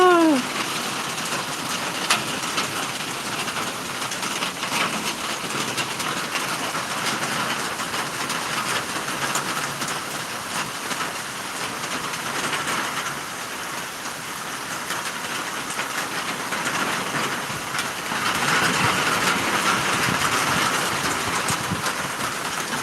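Tropical Storm Elsa sends wind and rain in a steady, dense roar that continues for more than twenty seconds, swelling slightly near the end, with no voices.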